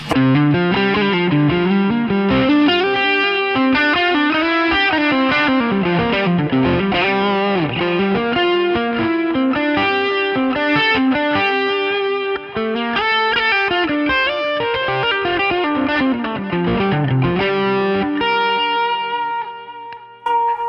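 An electric guitar through stacked overdrive pedals plays sustained chords and riffs, heavily overdriven, thick and distorted with a touch of reverb, continuous and loud throughout.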